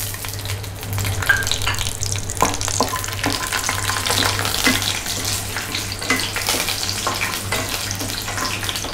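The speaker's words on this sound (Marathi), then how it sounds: "पुरो तेल तापलें फस्ट नेलकडले बी तांत घालया" Peanuts fry in hot oil with a steady hiss and scattered crackles and pops under a low constant hum, close by and moderately loud, nobody speaking.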